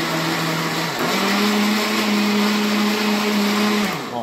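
A Multi Home Multiturbo 650 blender whirs steadily at low speed, its motor pitch stepping up slightly after a second and holding a constant loud drone.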